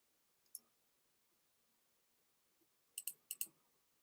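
Mouse clicks while working through layers in drawing software: one short click, then a quick cluster of four sharp clicks near the end, quiet and close with no talking.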